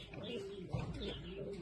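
Soft, low cooing from pigeons in a rural loft, murmuring steadily and faintly close by, with a person talking quietly underneath.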